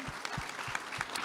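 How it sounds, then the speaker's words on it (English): Brief applause from an in-person audience at a talk, a soft spread of clapping at a steady level with no voices over it. "let's all give a round of applause to people that are watching us digitally."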